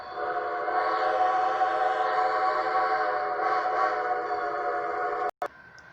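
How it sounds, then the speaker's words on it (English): A steam engine's whistle sounds as one long, steady, loud chord-like blast of about five seconds, then cuts off abruptly with a brief click. "That's the whistle, said Jerness."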